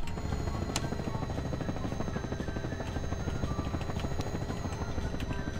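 Helicopter engine in the video game Garry's Mod, a continuous rotor thrum with a steady whine on top, close and even throughout, heard alone.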